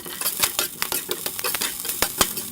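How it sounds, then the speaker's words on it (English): Brussels sprouts dropping into a hot pan give a crackling sizzle with sharp, irregular taps and stirring clatter, close and fairly loud, with no talking. "in goes our Brussels sprouts"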